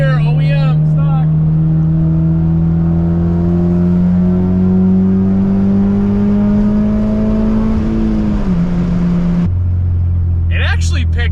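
Honda K24-swapped car pulling hard in fourth gear, a loud steady engine drone rising gradually in pitch before dropping off sharply, with a voice speaking over it near the start and end.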